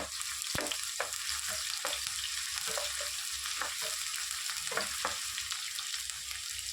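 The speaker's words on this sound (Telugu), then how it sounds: "ఉల్లిపాయ వేసుకొని ఫ్రై చేసుకున్నాము" Sliced onions frying in hot oil for a cucumber and spiny gourd curry, a steady bright hiss of sizzling oil punctuated by a dozen or so sharp spatula knocks and scrapes, close and unaccompanied by speech.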